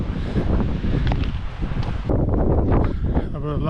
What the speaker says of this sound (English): See what I mean about the wind in Canterbury?